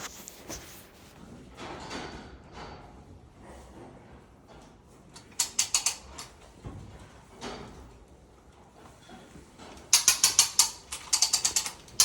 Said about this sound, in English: you can listen to me working the ratchet and taking it steady